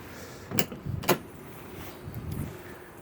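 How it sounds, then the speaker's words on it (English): The door of a 2014 Rockwood Roo 21DK camper is opened: two quiet, sharp latch clicks half a second apart, then soft shuffling and creaks over a faint background hiss. "Open the door."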